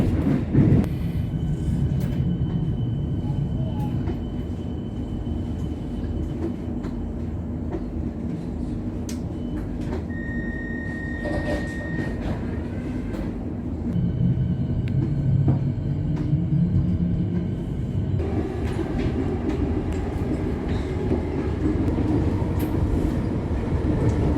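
A Melbourne suburban train rolling into a station, steady low rumble and rail clatter throughout, with a brief tonal whine midway and a louder surge of running noise in the later part.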